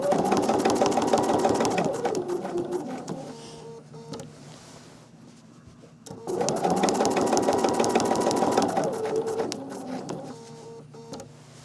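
A sewing machine stitches quilt lines through layered patchwork, running in two long bursts with a pause between them, close and steady with no talking.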